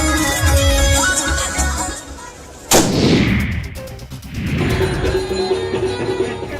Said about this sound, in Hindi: पास के ही एक कोट पैंट पहने युवक जेब से पिस्टल निकालता है और गोली लोड कर हवा में फायरिंग करता है।